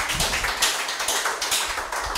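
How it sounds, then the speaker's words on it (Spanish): Studio audience applauding a guest at the close of a Spanish-language talk show, a short burst of close, steady hand clapping with no voices. "Un aplauso para esa señora."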